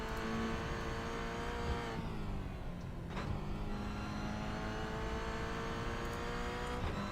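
A Toyota GR86 race car at full throttle on the Oschersleben circuit, its engine roaring loud and close with rising and falling revs, gear shifts and a brief dip in pitch around a chicane.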